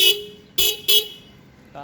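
A Yamaha RX 100 motorcycle of the RPM model, in fresh condition, sounds its horn in three short beeps, fairly close, followed by a brief fainter tone.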